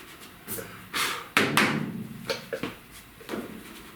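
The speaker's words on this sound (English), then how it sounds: "I gotta stand up and sand into the face like this to get this." Primer on a truck cab corner is hand sanded during deep dent repair. Close, irregular bursts of rough scraping strokes are mixed with soft thumps against the panel.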